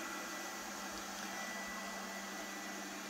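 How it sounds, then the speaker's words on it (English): A Lefant M213 robot vacuum cleaner runs with a steady, muffled whirring hum and hiss, constant and unbroken, heard nearby with no talking. "I wouldn't say it's really loud. It is more on the muffled sound. I've heard a lot louder robot vacuum cleaners."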